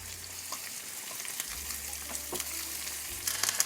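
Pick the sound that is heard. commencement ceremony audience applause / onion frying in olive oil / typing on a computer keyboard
onion frying in olive oil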